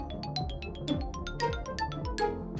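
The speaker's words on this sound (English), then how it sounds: "Normally, you'd boot up the console and hear this." Nintendo GameCube console booting up with its normal startup sound: a quick run of bright, chiming synthetic tones over descending low notes, clear and alone for under three seconds.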